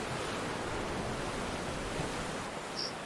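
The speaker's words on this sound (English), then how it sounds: "the distant sound of waves crashing on the shore." Waves break on the shore at Bullards Beach on the southern Oregon coast, heard from a distance as a steady, broad wash of surf with no distinct individual crashes and no voices.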